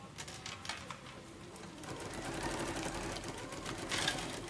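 An electric sewing machine stitches an insulated lunch bag, running in quick bursts of rapid mechanical clatter, then holding a steadier whirring run during a backstitch, close and clear with no voices.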